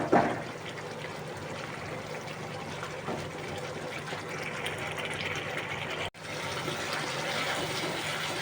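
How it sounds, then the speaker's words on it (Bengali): A bowl of water pours into a pan of potatoes and spices for a tilapia curry, giving a steady close splashing trickle that continues through the clip with a brief break near the end. "এবার জল দিব ঝোলের জন্য এক বাটি জল দিলাম"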